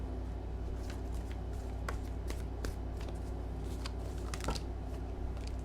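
A deck of tarot cards being shuffled by hand up close, with soft repeated riffling and flicking taps at an uneven pace against a quiet steady hum.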